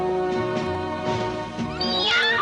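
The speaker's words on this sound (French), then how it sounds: "Un chat." A cat meows in a drawn-out, rising call near the end, partly masked by steady tonal music playing throughout a French television episode.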